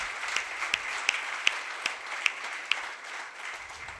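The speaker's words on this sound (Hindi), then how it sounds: "इसलिए त्रिवार तालियों से इनका अभिनंदन करें" An audience gives steady applause, a soft crowd of many hands clapping at a distance, with a few sharper, closer claps ringing out at regular intervals above the wash.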